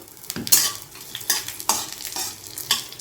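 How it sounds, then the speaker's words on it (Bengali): Raisins and cashews frying in very hot ghee after the gas is switched off, with a soft sizzle broken by several sharp stirring scrapes of a spoon against the pan. "এবার আমি বাকি যে ড্রাই ফ্রুটগুলো আছে সেটা আমি ভেজে নেব।"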